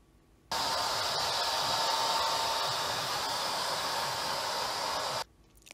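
A hair dryer, run by a makeup artist on a drama set, switches on abruptly and blows a steady, loud whooshing roar for nearly five seconds before cutting off, with no talking.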